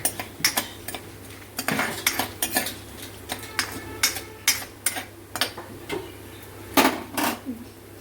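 Whole cumin and coriander seeds go into a pan and are stirred for kadhi, giving a run of close metallic spoon scrapes and clinks against the pan, with a faint sizzle beneath and no talking.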